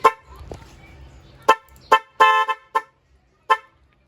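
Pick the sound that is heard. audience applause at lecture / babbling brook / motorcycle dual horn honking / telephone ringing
motorcycle dual horn honking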